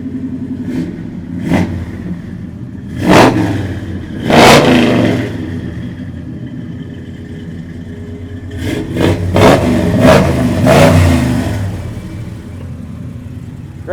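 A big block 1969 Chevelle convertible engine idles with a deep lumpy rumble, broken by several loud sharp throttle blips, two spaced early bursts, then a rapid cluster of revs.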